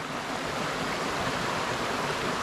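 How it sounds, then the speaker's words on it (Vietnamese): A mountain stream on Ma Thiên Lãnh in Tây Ninh, Vietnam, rushes with a steady, dense broadband water noise that stays even and close throughout, with no voices. "đây là cái suối ha, suối mà trên mặt Thiên Lãnh á"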